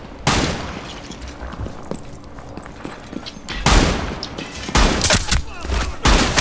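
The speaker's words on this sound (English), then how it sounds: "A shotgun." Shotgun blasts in the Rainbow Six Siege video game: an initial loud boom, then a busy stretch of game noise, then several more heavy shots in the last three seconds.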